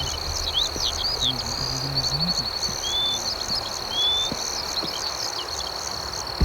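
Crickets chirp in dense, overlapping trills deep inside the Shalbona forest in Malda, with frogs croaking low underneath and occasional faint bird calls, a steady outdoor chorus with no talking.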